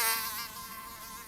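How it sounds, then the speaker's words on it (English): Mosquitoes whine close by at night outside an office building, a thin high buzzing drone that is loudest at the start and then hovers steadily at a moderate level through the short stretch. "A mosquito bit me on my arm. They are buzzing all around me."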